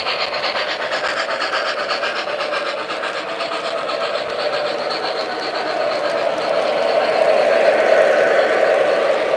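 Model trains running steadily along a layout track, a continuous clicking rattle of wheels over rail joints that grows slightly louder toward the end, with no talking.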